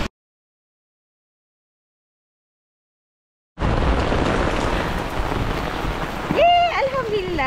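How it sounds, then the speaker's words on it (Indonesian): Steady rain falls in Mecca after more than three seconds of silence, a dense close hiss with a brief tonal swoop near the end. "Hari masih lagi hujan."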